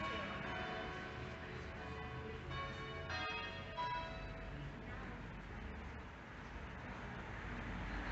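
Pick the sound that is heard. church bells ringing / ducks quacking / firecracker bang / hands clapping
church bells ringing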